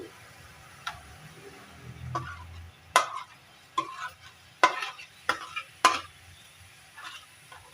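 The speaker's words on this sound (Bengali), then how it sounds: "বেলটা দিয়ে অনবরত নাড়তে থাকতে হবে" Ripe wood apple (bel) pulp with lemon juice is stirred in a pan for murabba, a quiet low sizzle broken by a series of sharp spoon scrapes and taps against the pan.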